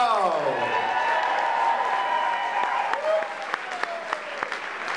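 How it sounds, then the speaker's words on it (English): Audience applause at a spoken-word poetry festival finals, crowd clapping under a sustained tonal hum that bends downward, with sharp individual claps standing out near the end. "I want to give another round of applause, please, for our poets of honor, Magpie Ulysses and Brendan McLeod."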